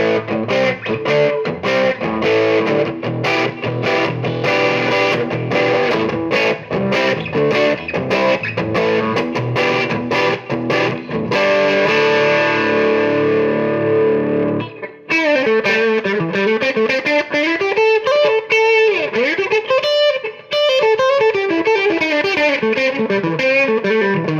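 Semi-hollow ES335-style electric guitar played with a distorted lead tone on the in-between pickup setting: fast, loud, close note runs and bends, with sustained phrases and brief pauses and no talking.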